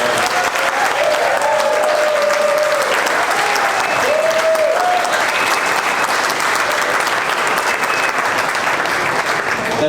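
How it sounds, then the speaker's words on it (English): Wedding guests applauding at a reception, a loud and continuous burst of clapping from a full room, with faint cheers and voices rising over it now and then. "So can we get a round of applause for all of them?"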